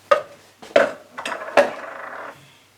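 A spoon clinks and scrapes against a pot while tomato paste is stirred into leftover homemade broth for a dairy-free, gluten-free cream of tomato soup, three sharp knocks followed by a softer swirling scrape, close by with no voices.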